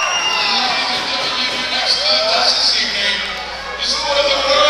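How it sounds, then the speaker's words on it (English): A packed wrestling crowd cheers and bellows without letup at a heavyweight title bout, a loud, dense roar with whoops flaring near the end. "Wow, that crowd is just going off the charts."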